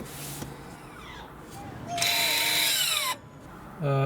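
The electric parking brake actuator on a Lexus UX whirs into engagement with a rising motor whine, a loud sustained mechanical buzz that cuts off, then a brief final burst of whirring.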